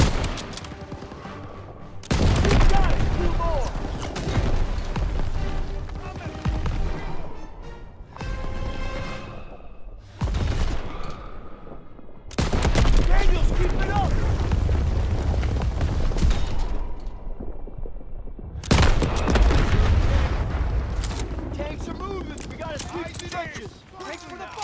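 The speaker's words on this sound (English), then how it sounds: "Thanks for the fire support, Daniel!" Dense gunfire and heavy explosions from a Call of Duty: WWII battle, loud and continuous in several sustained bursts with booming blasts and rattling shots, broken by brief lulls, with voices shouting over the combat.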